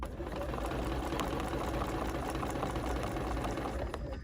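A sewing machine quilting in the ditch along a scallop stitch on an embroidery sampler block, giving a steady, continuous motor whir and needle rattle without a break.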